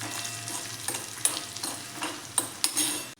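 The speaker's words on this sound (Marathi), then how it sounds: "हे व्यवस्थित आपण तडका तयार करून घेऊयात।" Tadka for dhaba-style dal sizzling in a hot pan with asafoetida: a steady close frying hiss with a few sharp spitting pops and stirring scrapes, then a sudden stop.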